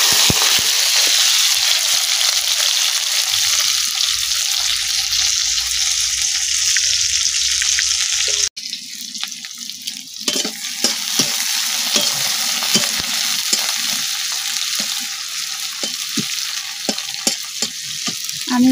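Onion, garlic, ginger and chilli hit hot oil with five-spice tempering, giving a loud, steady sizzle that erupts sharply halfway through as more goes into the pan, then continues with stirring scrapes and crackles.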